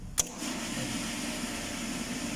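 A motor pump hums steadily at a moderate level after a brief sharp click at its start, holding a continuous even drone.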